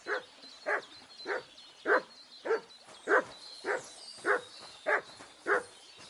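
Mutt, the dog in Kingdom Come: Deliverance 2, barks in an even rhythm, about ten single woofs spaced roughly half a second apart at moderate volume, with no speech.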